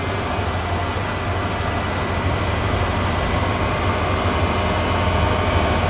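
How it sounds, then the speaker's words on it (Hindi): Large motors pump water up from a river at a dam construction site, giving a loud, unbroken mechanical drone that holds steady throughout. "बड़ी बड़ी मोटरें जो कि पानी उठा रही हैं नदी में से"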